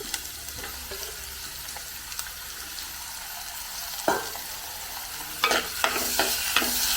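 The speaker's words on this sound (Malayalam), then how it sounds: "ഇനി നമുക്ക് ഇതിനകത്തേക്ക് ഇടേണ്ടത് ഒരു മീഡിയം സൈസ് തക്കാളിയും 2 പച്ചമുളകും അതോടിട്ട് അതോടൊന്ന് വാടി വരണം" Onion, a medium tomato and two green chillies sauté in a pan for a veldt grape theiyal, a steady sizzle overlaid by spatula strokes that grow more frequent and louder toward the end, with no voices.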